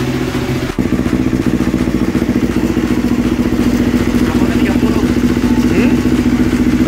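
A Yamaha R25 ARRC race motorcycle with a titanium exhaust idles close by with a steady, throbbing low rumble and a fast rhythmic pulse, after a brief clunk near the start; someone talks over it.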